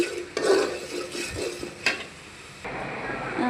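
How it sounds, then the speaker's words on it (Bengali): Spices being stir-fried in hot mustard oil for an okra curry, with a steady sizzle broken by scraping stirs of a spoon against the pan, up close and alone. "এখন মশলাটা কষাইয়ে নেই।"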